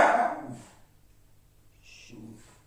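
A dog gives a single loud, close bark, then a quieter whimpering sound follows after a pause.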